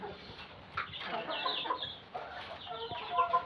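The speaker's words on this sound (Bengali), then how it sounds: "আর এই হেজার মুরগ হচ্ছে এটা" A Hejar breed rooster gives a short run of soft, close clucks on a poultry farm, heard alone and at low volume.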